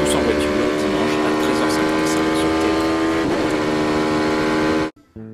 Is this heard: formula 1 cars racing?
yes